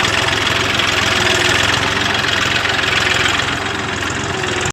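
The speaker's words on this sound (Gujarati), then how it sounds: "ટ્રેક્ટર ચાલુ થઈ ગયું છે." A tractor engine running in a farm field during onion sowing, a loud steady low rumble with a rapid knocking pulse, close by and unbroken, no talk.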